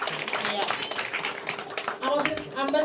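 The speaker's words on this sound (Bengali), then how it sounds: "আমরা হাততালি দিচ্ছি না যে জোরে জোরে?" An audience at a spring colour festival stage programme claps steadily throughout, dense and continuous, with voices and stage talk mixed in over the applause.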